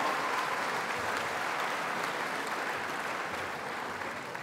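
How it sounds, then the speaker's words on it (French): Audience at a political rally for Alain Juppé applauding, a dense steady wash of clapping from a large crowd that holds throughout and fades slightly at the end. "Oui, vous pouvez vous applaudir."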